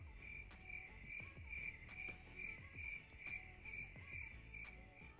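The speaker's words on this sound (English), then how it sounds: "We've got the crickets." Crickets chirp in a quick, regular pulsing rhythm, faint and steady on a June night, with no voices.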